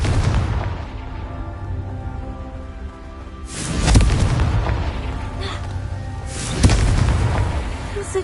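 Two heavy booms from the Confringo explosion spell in Hogwarts Legacy, each a sudden blast that rolls into a long rumbling decay, over a constant low game ambience.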